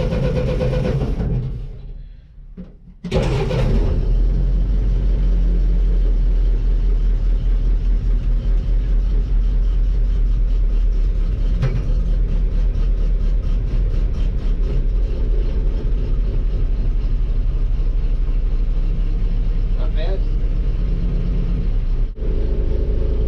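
A Willys Jeep engine is cold-started after sitting for about two weeks: a brief cranking, then it catches and settles into a loud, steady, rumbling idle that runs on close by.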